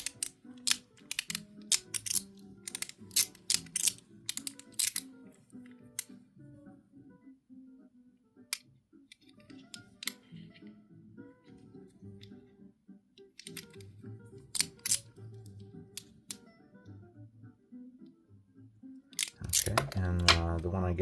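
Titanium mechanical slider fidget with stainless steel balls gives sharp, close clicks, first in a quick cluster, then scattered snaps with quieter handling noise between them.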